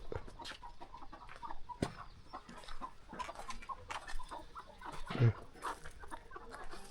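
Native village chickens cluck softly around a rural home, giving scattered, fairly faint clucks and rustles at close range with a brief louder call near the end, and no speech.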